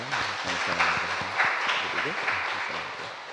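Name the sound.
church congregation applauding the young people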